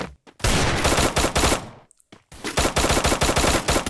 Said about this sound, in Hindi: अंधाधुंध फायरिंग होती है ये देखिए